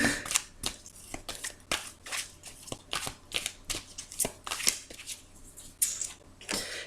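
Tarot cards are shuffled by hand for a reading, giving a rapid run of crisp riffling and slapping bursts, close and fairly quiet, repeating irregularly with no talk.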